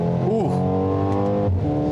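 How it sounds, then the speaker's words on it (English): A 2021 Mercedes-AMG GLA 35 hot hatch accelerates with a synthetic, artificially enhanced engine sound, a loud steady drone of layered tones that shifts in pitch as the car pulls. "It's definitely creating some kind of a fake engine sound."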